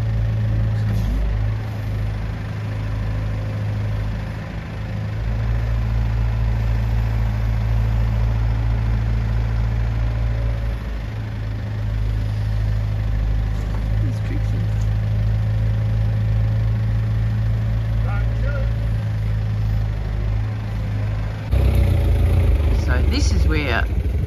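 Truck engine idling nearby with a steady low drone while dirt is dropped off, a brief hiss and clatter near the end, and a voice talking intermittently over it.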